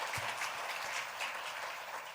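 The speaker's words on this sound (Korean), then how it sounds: "뜨거운 박수 한번 환영할까요?" Congregation applause during a Korean Sunday church service, welcoming guests: a brief, steady wash of clapping heard at a distance, fairly quiet and even throughout.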